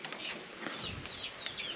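Young chicks in a wooden brooder make soft, faint peeping and clucking calls, a few brief chirps over steady background noise.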